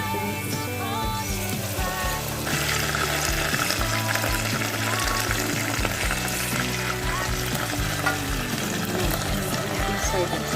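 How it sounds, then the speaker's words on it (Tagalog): Canned sardines in tomato sauce poured into a hot pan for a quick budget meal, a loud steady sizzle and frying hiss that runs throughout, with a person talking over it. "Ibubuhos na natin yung ating sardines."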